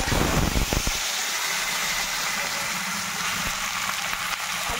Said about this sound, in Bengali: এবার আলুটা দিয়ে নিচ্ছি। আলুটা ভাজা হবে